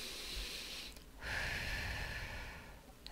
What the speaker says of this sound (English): take a few deep breaths and allow our autonomic nervous systems to engage